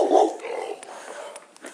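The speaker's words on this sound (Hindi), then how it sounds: "भाई इस गांव में हर तरफ कुत्ते ही कुत्ते हैं, सब मेरे को देख के भौंक रहे हैं।" Large dogs in a Serbian village bark, with one loud, close burst at the start, then rougher, fainter barking and growling in the open outdoor air.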